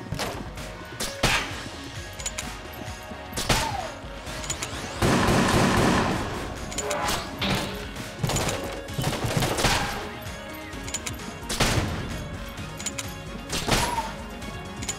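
Bursts of gunfire from Enter the Gungeon crack out in rapid, uneven volleys, loud sharp shots repeating across the whole stretch with dense flurries in between.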